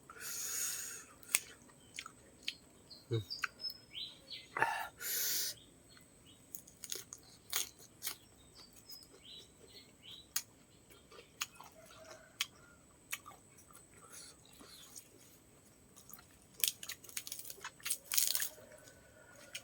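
Crispy food dipped in sauce is chewed close to the mic, producing faint, irregular crunches and wet mouth sounds spread over a quiet background, with no talking.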